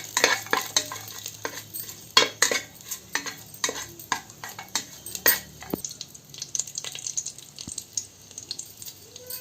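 Cinnamon, cloves and whole spices sauté in hot ghee, with a steady faint sizzle under sharp, irregular clinks and scrapes of a spoon stirring the pan up close.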